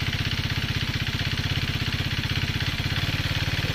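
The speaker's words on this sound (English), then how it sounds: "and it's idling. A little bit high, but it's not stalling." 2014 KTM 390 Duke single-cylinder engine idling slightly high after a spark plug change, a close steady rapid thumping putter with an even rhythm and no break.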